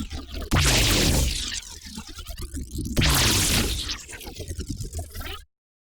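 A Radium synth patch, played on a Roli Lightpad Block M and run through a DSP rack, plays two loud, bright, gritty swelling hits with a descending low sweep, each trailing into choppy, flickering texture before cutting to silence.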